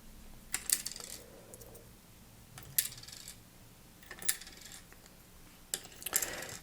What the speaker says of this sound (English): next up we can drop on the washers.